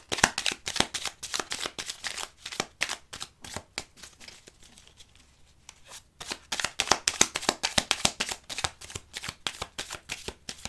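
Tarot cards riffled and shuffled by hand for a nine-card reading, a dense run of quick crisp flutters that pauses briefly in the middle, then resumes, close and clear with no talking.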